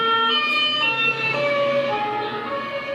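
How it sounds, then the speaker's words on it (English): A police car siren wails close by as the vehicle passes, its steady wailing tone sliding downward in pitch as it moves away, loud and clear over faint traffic. "as this police car moves past us, that pitch will go from high to low"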